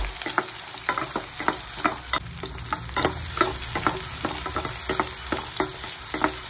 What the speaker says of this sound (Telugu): అలాగే దీంట్లో ఒక ఎండుమిరపకాయ, అలాగే కొంచెం కరివేపాకు, అలాగే మనం కట్ చేసి పెట్టుకున్న ఉల్లిపాయ, మిరపకాయ కూడా అయితే వేసుకొని ఒక రవ్వ అయితే ఫ్రై చేయాలండి.